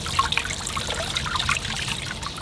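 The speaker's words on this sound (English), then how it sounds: "I'll just give it a final rinse off." Water trickling and splashing over a large bonsai tree's roots during a final rinse, a brief, close, steady dribble with small irregular splashes and no speech.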